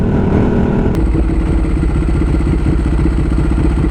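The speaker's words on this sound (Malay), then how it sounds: "Inilah dry clutch." A Ducati Streetfighter 1100 S idles with the fast metallic chatter of its dry clutch rattling over a loud, close engine throb, with a brief sharp click near the start.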